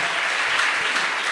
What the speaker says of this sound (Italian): Signore e signori, un altro applauso